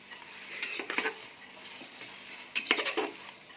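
A spoon scrapes and stirs chicken biryani in a cooking pot in two short bursts of metallic scraping and clinking, close and fairly quiet, with gentle background hiss between them.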